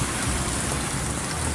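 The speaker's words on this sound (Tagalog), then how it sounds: "Lakas ng ulan." Heavy rain falls during a stormy day as a driver waits in a queue, a dense, loud, steady roar of drops hitting surfaces with no break, close and alone without talk.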